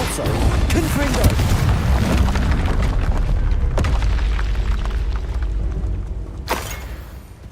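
Fiery blasting-spell explosions from the Confringo curse in Hogwarts Legacy on PC, dense booming bursts and crashes rolling almost continuously at high level, with a sharp crack near the end and spoken spell names mixed in.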